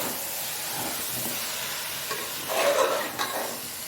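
Potatoes frying in a pan being stirred, a soft continuous sizzle with a brief louder scraping stir near the end, close and quiet.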